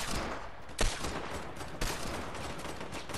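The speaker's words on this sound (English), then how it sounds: "I'm being shot at" Fortnite gunfire crackles as a dense, continuous barrage with two sharper nearby shots standing out, sustained and fairly loud with no talk over it.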